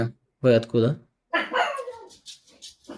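A dog gives two sharp barks up close, followed by whimpering yips mixed with a man's speech.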